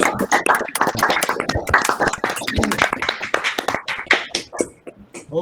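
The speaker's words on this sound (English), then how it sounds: "I would like to ask the audience to open the microphones and give a round of applause to Claudio, please." Applause from an online physics colloquium audience over meeting microphones after a talk, a dense patter of clapping from several hands, close and uneven, lasting the whole stretch and tapering slightly at the end.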